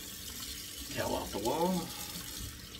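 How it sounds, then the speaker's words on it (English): A cold water tap runs into a bathroom sink during a shave, a steady soft rush of water underneath a man's speech. "So let me just turn the cold water tap on."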